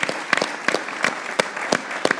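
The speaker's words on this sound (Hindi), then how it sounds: "फ़खर जमान के लिए भी तालियां बजाना चाहता हूँ।" A studio audience claps in a steady, rhythmic pattern of close, crisp handclaps, evenly spaced and filling the short stretch without any voices.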